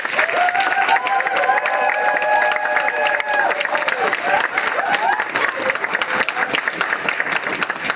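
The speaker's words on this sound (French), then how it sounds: "Je vous demande de les applaudir." Wedding guests at a church ceremony applaud the newly married couple, with brisk, continuous clapping, scattered cheers and voices throughout.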